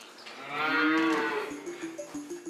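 Dairy cows on a farm give a long, loud close moo that swells and fades, followed by a couple of shorter lowing calls, with no talking.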